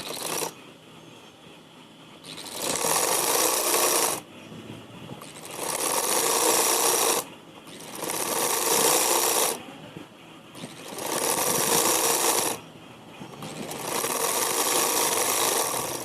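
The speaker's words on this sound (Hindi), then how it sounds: "देखिए अब इसमें सिलाई लगाना स्टार्ट करते हैं" A sewing machine stitches an umbrella-style sleeve in fabric, running in four loud bursts of a few seconds each, separated by short quieter pauses where the motor stops.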